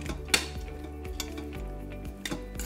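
A spoon stirs chopped basil into cooked basmati rice in an Instant Pot, giving soft scraping and stirring scuffs with a few sharp clinks against the pot, close and fairly quiet.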